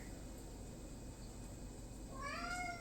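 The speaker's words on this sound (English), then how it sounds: "you hear my cat?" A pet cat meows in a home kitchen, a short rising-and-falling call near the end over a steady background hum, with nothing heard before it.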